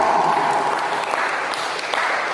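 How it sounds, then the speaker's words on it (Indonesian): Audience applause after candidate number 3 finishes answering at a school student council (OSIS/MPK) election Q&A; steady dense clapping fills the whole short stretch, loud and continuous with a faint voice underneath. "Oke, aplaus untuk calon nomor"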